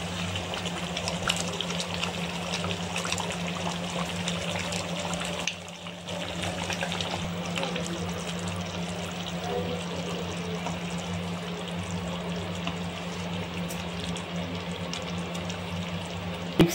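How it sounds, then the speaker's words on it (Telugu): Water is poured into a mixer jar to rinse it, then poured out, a steady running splash with a constant low hum behind it and a short break near the middle, with no talking. "మిక్సీ జార్లో వాటర్ వేసి నీట్గా కడిగి దాన్ని పోసేయాలి ఫ్రెండ్స్."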